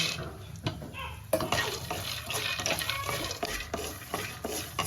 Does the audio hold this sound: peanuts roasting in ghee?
yes